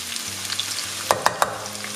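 Vegan shrimp frying in a pan as shallot and preserved radish go in, a steady close sizzle broken by three sharp clatters of ingredients or a utensil hitting the pan.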